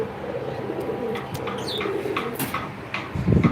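Pigeons coo softly nearby, low throaty calls mixed with occasional light chirps and a brief flutter toward the end, all fairly quiet.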